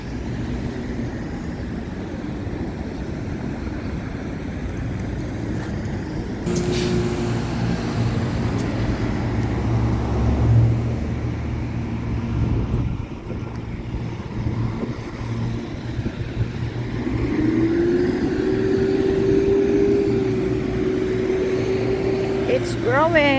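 Early-morning road traffic beside road construction: a continuous rumble of passing vehicles with a low hum and engine rises, heard close and steady beneath a person talking.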